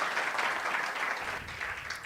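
Audience applause at the finals of a women-in-tech hackathon, a moderate, steady patter of clapping heard from a slight distance for a couple of seconds.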